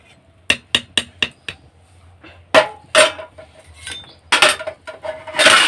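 Metal clanks and clinks come from a cooking pot of Bengali khichdi as its lid is set on. A quick run of sharp taps is followed by a few louder scraping clatters, close by and with no speech.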